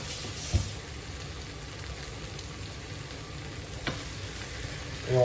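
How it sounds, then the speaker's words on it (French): Cream is stirred into a frying pan while making a flamiche au Maroilles, giving a soft, steady sizzle with faint scraping and a couple of light clinks from the utensil. "Et on mélange, histoire que ce soit bien onctueux."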